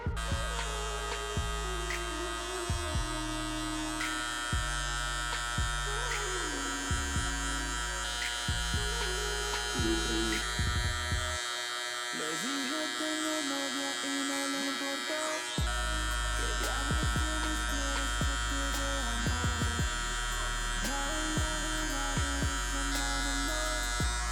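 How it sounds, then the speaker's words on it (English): An electric hair clipper fitted with a 1 guard hums and buzzes steadily while blending a low fade, its motor pitch shifting in short passes with brief pauses, close and continuous. "we're gonna go ahead and throw on the 1 guard on the clipper"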